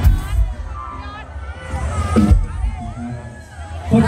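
Crowd cheering and shouting at a live mini-concert at an annual temple fair in Thailand, bursts of voices rising and falling in uneven waves, with a voice talking over the noise.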